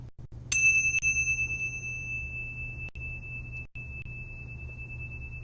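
A bell rung during a Rosicrucian mass: one bright struck tone that rings on and decays slowly, with a second lighter strike right after, over a low steady hum in a quiet hall.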